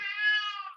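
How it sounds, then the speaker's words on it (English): A single drawn-out cat meow, clear and close, rising slightly then trailing off. "Can you hear the cat?"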